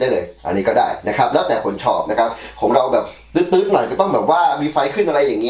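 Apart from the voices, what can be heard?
No everyday noises stand out.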